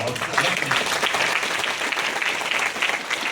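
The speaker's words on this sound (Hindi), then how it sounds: "अभी तो आपने ताली बजाई है" An audience at a university convocation ceremony in Uttarakhand breaks into steady, dense applause, loud and continuous for a few seconds.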